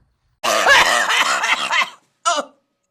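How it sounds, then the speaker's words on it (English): A harsh, raspy cough fit lasting over a second, followed after a short pause by one more brief cough, loud and close. "roll the clip how I was coughing"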